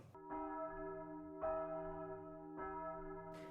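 Three resonant bell strikes ring out one after another, each tolling tone sustaining and decaying before the next, clear and fairly close in quiet surroundings.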